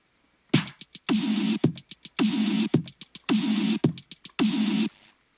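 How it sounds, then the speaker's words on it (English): Trap-style hip-hop beat loop recreating a song, with punchy repeating bursts and clicks in a tight rhythm, a basic kick pattern and hi-hats, loud and upfront with no voice. "Altogether, the beat sounds like this,"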